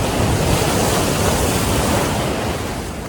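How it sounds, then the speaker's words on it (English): Ocean waves break on a shore in a loud, close, continuous wash of surf that roars steadily without pause. "enjoy the waves."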